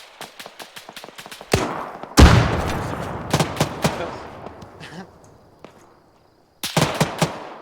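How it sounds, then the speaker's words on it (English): Rapid irregular rifle and machine-gun shots in Arma 3, sharp close cracks with a big blast-like burst and long rolling decay, pausing briefly before another volley near the end. "Open fire, go."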